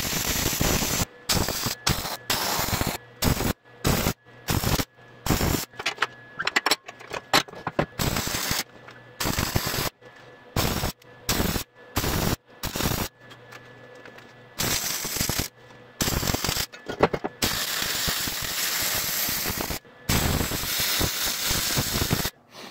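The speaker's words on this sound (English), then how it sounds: "So everywhere where that metal meets gussets is where you're going to want to weld." Arc welding on a steel trailer axle, laying fillet welds where the metal meets the gussets, heard as loud, close crackling hiss in repeated bursts separated by short silent pauses, with no talking.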